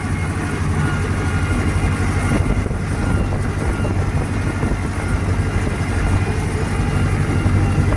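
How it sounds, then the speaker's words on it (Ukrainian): A YuMZ 8280 tractor's diesel engine idles loud and close, a steady low rumbling drone that runs unbroken, with no speech. "Двигунчик дизель."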